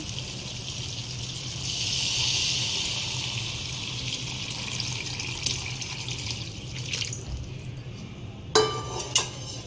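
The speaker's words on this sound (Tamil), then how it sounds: "அந்த தண்ணியை இப்போ இதோட ஊற்றிக்கலாம்" Water pours steadily into a cooking pot of okra and field bean curry with a soft rushing splash, followed by a couple of light metallic clinks near the end.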